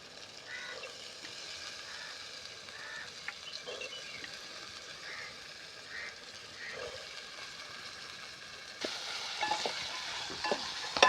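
Green peas are stirred and sautéed in a pan for pea biryani, giving a soft, continuous sizzle with scraping stirs that turn busier and louder near the end.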